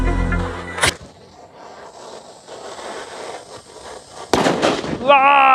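Agni Tiger firecracker bomb at a Diwali cracker test, a sharp loud bang followed by open outdoor hush, then a second burst with crackling. A voice joins near the end.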